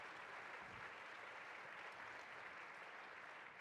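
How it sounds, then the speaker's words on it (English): Steady, sustained audience applause at a 2016 entrepreneur leadership series event, a dense continuous clapping that holds at an even level throughout, fairly distant and alone without talk. "They're clapping for you, Paul."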